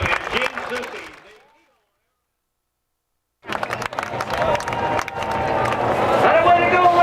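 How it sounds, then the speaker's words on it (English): An air show crowd at Reno applauds the 1990 Eagles aerobatic team. The outdoor clapping and cheering cut out briefly, then return louder and build steadily, mixed with an announcer's voice. "Ladies and gentlemen, a big round of applause for the 1990 Eagles."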